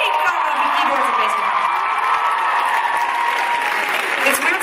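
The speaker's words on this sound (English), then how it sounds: "Please put your hands together." Concert audience at a theater applauding and cheering during band introductions, a dense, loud, steady wash of clapping with whoops rising throughout.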